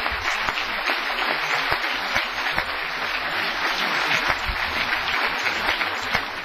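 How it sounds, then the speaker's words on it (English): Audience at a candidates forum applauding, a broad steady wash of many hands clapping, fairly loud and sustained without a break. "Give yourselves a big round of applause"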